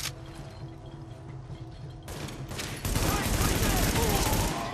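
Gunfire in the video game Tom Clancy's The Division, a dense fusillade of rapid shots that grows louder and busier halfway through, under a constant game background.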